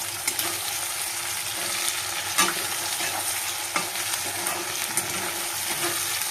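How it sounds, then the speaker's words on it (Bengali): Onions frying in hot oil in a pan, a steady close crackling sizzle with occasional clicks of a spatula stirring. "এই যে পেঁয়াজটা ভাজা ভাজা হচ্ছে।"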